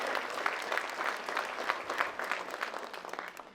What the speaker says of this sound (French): Ils méritent vraiment une bonne main d'applaudissement.